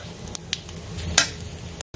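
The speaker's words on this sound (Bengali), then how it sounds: "ওই মশলাটার আগে আমি পেঁয়াজগুলো একটু ভেজে নিচ্ছি" Onions fry in a pan before a tomato, ginger and chilli paste goes in, giving a soft steady sizzle with a few sharp clicks of a utensil against the pan, then a brief cut to silence near the end.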